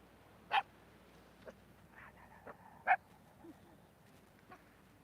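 A dog barks outdoors at an oceanfront yoga class, giving two sharp, fairly loud barks spaced a couple of seconds apart, with fainter yips and a low background hum in between.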